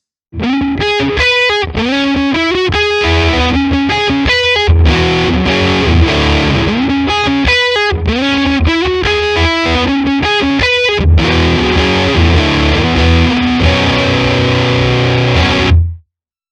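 Electric guitar through a Mayonaise Fuzz pedal, a Big Muff-style fuzz by Umbrella Company, plays a fast, loud lead riff with rapid note runs, ending in thick sustained chords before cutting off.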